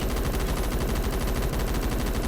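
An MG36 machine gun fires a continuous fully automatic burst at 750 rounds per minute in the Phantom Forces shooter game, a loud, steady rapid rattle with no pauses for the whole stretch.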